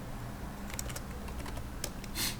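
Soft, quick keystrokes on a computer keyboard while entering text in AutoCAD, a run of light clicks ending in a slightly louder key press, quiet and close.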